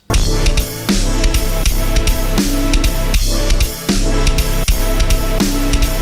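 A loose, lopsided drum groove in quintuplet timing, with kick, snare and hats landing on an uneven five-part pulse, played loud and steady with bass underneath.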